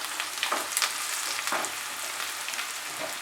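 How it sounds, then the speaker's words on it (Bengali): Onion frying with a handful of curry leaves over medium heat, a dense continuous crackling sizzle close by with a few sharper pops, alone without voices. "মাঝারি আঁচে রেখে পেঁয়াজটাকে ফ্রাই করব"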